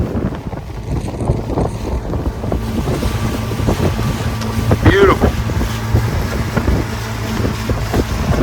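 A ski boat engine drones steadily crossing Fontana Lake under heavy wind rush and water noise, with a short spoken remark partway through.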